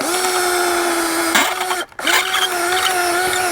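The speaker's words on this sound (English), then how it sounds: "we can just get our drill bit right here" A power drill whines loudly and steadily while removing an RV camper awning, pausing once for a moment before spinning back up at the same pitch.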